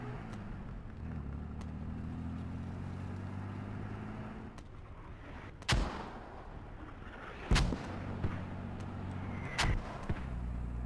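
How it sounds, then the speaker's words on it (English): Mortar rounds land in the shooter game Squad, three heavy booming impacts spaced a couple of seconds apart over a steady low vehicle-like rumble, with no talking. "Oh, we're getting mortared."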